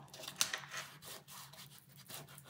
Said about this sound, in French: Je mets du scotch.